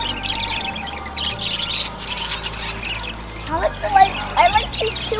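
Pet store birds chirp and squawk in a steady chatter, with sharper, louder calls toward the end, while people talk nearby.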